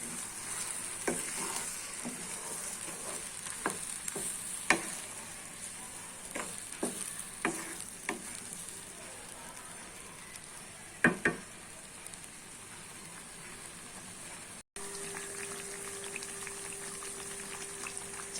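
Tamarind and green chili pickle cooks in a pan, a low bubbling simmer and faint sizzle with frequent light spoon taps and scrapes while it is stirred, steady and close, cutting off briefly before a quieter stretch, with no talking.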